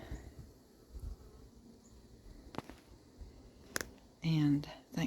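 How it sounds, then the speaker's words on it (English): Robber bees and home bees crowd a small entrance in a blue hive super in spring, their buzzing faint and steady with a sudden loud, close buzz near the end, over soft background murmur. "bees that look so frustrated up there trying to get into that little entrance in the blue super are home bees"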